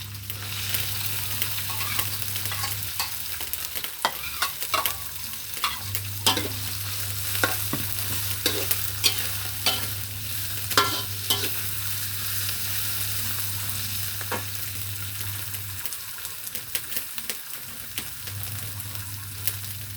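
Freshwater shrimp stir-fry with holy basil in a hot pan, giving a steady sizzle with repeated scraping and stirring clatter throughout, alongside a low constant hum in the background.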